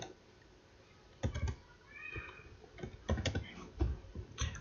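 A computer keyboard typing a short word into pharmacy management software, with a few quick clustered bursts of close keystroke clicks against a quiet room.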